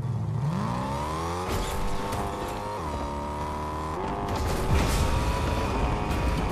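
A car engine revs and whirs steadily in Fortnite, with rising and falling pitch sweeps over a continuous loud mechanical drone, alone without talk.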